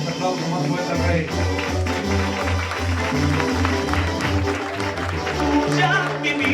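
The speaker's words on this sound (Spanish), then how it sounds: "denle un aplauso más fuerte al Rey" A church congregation bursts into applause, a dense patter of clapping that swells and carries on with crowd noise and some voices mixed in.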